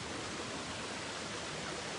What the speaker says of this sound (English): spring water going down